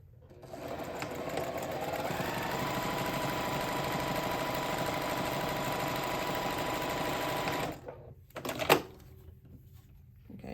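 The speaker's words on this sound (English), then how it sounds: "We're going to top stitch along the folded edge." A sewing machine top stitches along the folded edge of a fabric pocket piece, running in one steady, loud, fast continuous whir for about seven seconds, then stopping, with a couple of brief handling clicks and knocks after.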